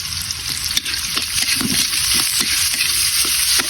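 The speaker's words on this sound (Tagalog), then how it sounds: "Pwede na natin nilagay ang ating luya, bawang at sibuyas." Ginger, garlic and onion sauté in hot oil for chicken-feet tinola, giving a loud, close, continuous sizzle with stirring scrapes, no talk.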